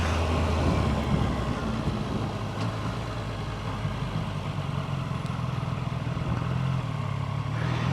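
A Triumph Tiger Sport 800 motorcycle rides along rough roads, its engine droning steadily with constant wind and road rumble throughout and no voices.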